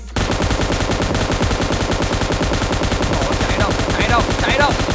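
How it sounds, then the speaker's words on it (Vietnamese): Rapid automatic gunfire from the video game PUBG Mobile rattles in continuous, evenly spaced bursts, loud and close, with a voice faintly underneath. "Trời ơi, thừa đạn mà cứ bắn thôi"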